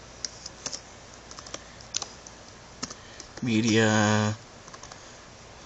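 A few scattered keystrokes on a computer keyboard while entering a name during NAS server setup, sparse and close, followed by a short spoken word.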